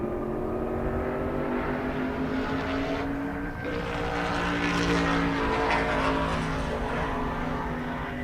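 A drag racing car at a half-mile airstrip event roars at full speed, its engine howling loud and continuous with pitch steps as it shifts gears, a brief dip then a surge back up.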